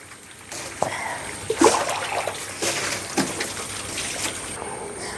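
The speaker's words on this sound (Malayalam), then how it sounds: "നമുക്ക് ആകെ നന്നായിട്ട് വെള്ളം ഒഴിച്ച് കഴുകിയെടുക്കാം." Water is poured over an auto-rickshaw to wash it, giving a splashing, gushing outdoor stream with irregular bursts that keeps going for several seconds, fairly close and moderately loud, with no one talking.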